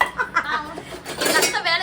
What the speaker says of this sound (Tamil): இன்னைக்கு எங்க அத்தை பாத்திரம் உழகுறாங்க